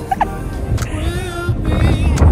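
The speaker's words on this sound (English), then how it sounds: "I think the wind is going to be in our faces just now." Wind buffeting a microphone while riding outdoors, a low rumbling rush that swells and grows stronger toward the end, with faint mechanical and traffic noise beneath it.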